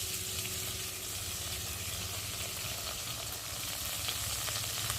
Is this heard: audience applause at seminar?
no